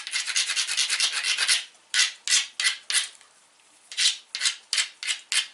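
Edge of a Georgetown stone biface ground down against an abrasive stone, making loud, close rasping scrapes, first in a rapid continuous run, then in separate rhythmic strokes after a brief pause.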